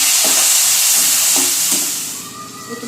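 Tomatoes frying in a hot pan: a loud, bright sizzle with a few scraping stirs, slowly settling and fading toward the end.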